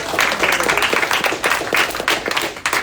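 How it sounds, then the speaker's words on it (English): A comedy club audience claps steadily through a stand-up set, a dense, continuous patter of many hands that stays fairly loud from start to finish with no voice over it. "Can we get a round of applause?"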